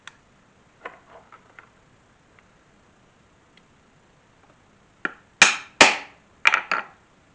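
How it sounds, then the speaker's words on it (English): Hammer blows setting rivets in a leather chain wallet: a few light taps, then four or five sharp, loud metallic strikes in quick succession, close by with no talking. "Then I can continue setting the rest of my rivets."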